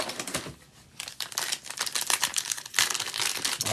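Trading cards slid into protective sleeves one after another in quick succession, a busy run of crisp plastic crinkles and soft rustles with short pauses between bursts, close by and with no one talking.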